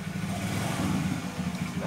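A steam cleaning machine's motor switched on for a test, running as a steady low hum and drone close by, constant in level with no voices over it.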